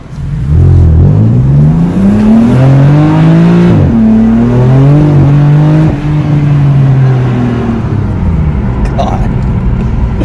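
A BMW M4 Competition accelerates with a loud, rising engine note, its pitch climbing and dropping through several gear changes, heard from inside the car while people talk over it.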